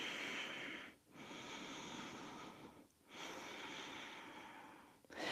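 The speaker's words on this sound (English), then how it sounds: "Let's take about 3 breaths here." Slow, deep breaths during a yoga pose, long airy inhales or exhales of steady breath noise separated by brief pauses, close and soft.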